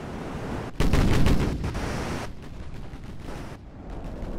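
Naval guns firing in the naval warfare game Ultimate Admiral: Dreadnoughts: a sudden heavy blast followed by a long rumbling roar that slowly fades into a steady wash of sea and wind noise, with no talking.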